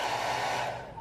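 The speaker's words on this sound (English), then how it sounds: "I'm heating it up with a blow dryer since this needs heat to detect" Blow dryer whooshing steadily at close range as it heats the heat sensor of an electrically activated live animal trap, a continuous airy roar that eases off slightly near the end.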